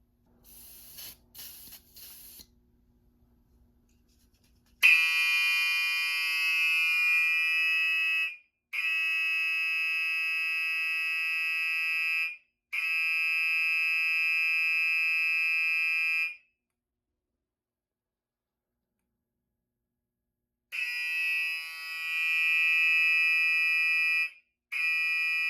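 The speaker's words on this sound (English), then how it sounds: "Zone 1 is an alarm" A Silent Knight 5204 fire alarm panel goes into alarm after a smoke detector trips, a loud, piercing electronic tone sounding in long bursts broken by short pauses and a longer gap, preceded by faint clicks.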